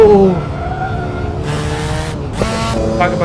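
A car slides on a twisting mountain road, its engine droning steadily while tires squeal in two short hissing bursts, close and loud, with no talk.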